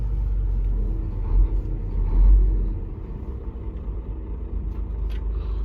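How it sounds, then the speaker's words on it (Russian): A DAF truck rolls past on a city road, a low heavy rumble that swells briefly and then continues as a steady engine drone heard from inside a vehicle. "Вон DAF едет."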